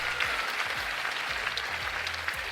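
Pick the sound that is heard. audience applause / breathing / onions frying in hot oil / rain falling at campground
audience applause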